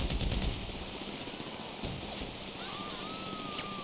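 Gunfire in Grand Theft Auto V near water, a rapid burst of automatic shots at the start followed by a few scattered single shots over engine and water noise.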